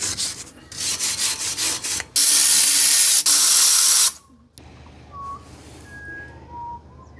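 Spray cleaner on car brakes, heard as a loud, close, continuous hiss lasting a couple of seconds after some rubbing and scraping, then a quieter workshop with faint whistling tones, no speech.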